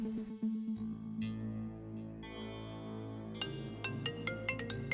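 A tonal electronic phone ringtone plays, a steady melodic tune with bright beeping notes toward the end, moderately loud.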